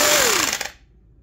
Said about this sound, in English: Rockwell Model 60 jigsaw.